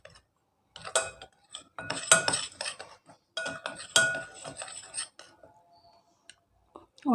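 A spoon clinks and scrapes against a bowl as dhokla batter is stirred with turmeric and salt, coming in irregular bursts of clatter with short pauses between them and soft, close sounds throughout.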